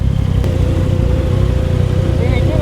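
A motorcycle engine revving loudly right nearby, a continuous throaty roar that stays close the whole time.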